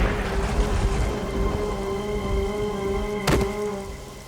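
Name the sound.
rain falling in a forest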